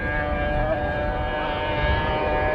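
A Honda RC45 racing motorcycle ridden by Joey Dunlop at the 1999 Ulster Grand Prix, racing against 1000cc Yamahas, holds a steady, high, wailing engine note at full speed without a break.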